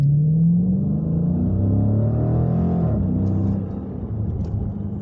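A 2021 Dodge Challenger Scat Pack muscle car engine revs up in a deep, loud rising growl, then eases back to a steady rumbling idle.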